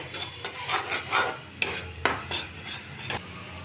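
A mixture of powdered milk, sugar and chhana being stirred in a pan: rhythmic scraping strokes with a few sharp clinks of utensil on metal, close up, no speech.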